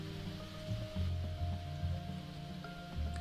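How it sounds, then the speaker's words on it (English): Steady rain falling outside a cave in the game SeaBed, a continuous soft hiss with low rumbling beneath a sustained ambient tone, heard alone without any voices. "The sound of rain outside began to abate."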